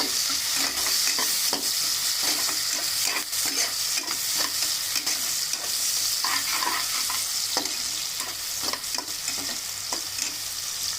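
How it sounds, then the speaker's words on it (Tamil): Onion and green chilli frying in hot oil for chicken salna, a steady dense sizzle running throughout with frequent scraping stirs of a spoon against the pan, close and loud, no voices. "இப்போ அது கூட ஒரு பெரிய வெங்காயத்தை கட் பண்ணி வச்சிருக்கேன். அதையும் ஆட் பண்ணிக்கலாம். ஆட் பண்ணிட்டு நல்லா ஃப்ரை பண்ணி விடுங்க."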